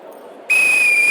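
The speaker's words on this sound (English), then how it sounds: "On my whistle, 3, 2, 1." A whistle blown at a business launch event to start a greeting round cuts in sharply after a brief, quiet murmur and holds as a loud, steady, sustained tone.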